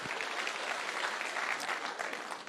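An audience at a church-style gathering breaks into brisk, dense applause, a sustained patter of many hands clapping close by that fades slightly at the end.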